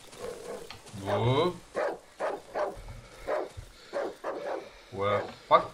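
A dog barks in the horror video game Darkwood, several sharp barks scattered across a few seconds and mixed with someone talking.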